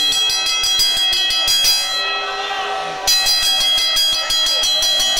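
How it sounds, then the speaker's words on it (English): A wrestling ring bell clangs repeatedly at a live indoor wrestling show in Miami, loud rapid metallic dinging that pauses briefly and resumes. "referee calling for the bell"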